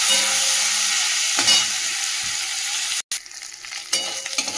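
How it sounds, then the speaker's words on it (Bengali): Prawns fry in hot oil with a dense, bright, continuous sizzle and a few clatters from a utensil; no one speaks. "তেলটা তো ভালো করে গরম হয়ে গেছে, চিংড়ি মাছটা দিয়ে দিলাম। চিংড়ি মাছটা ভেজে তুলে নিই"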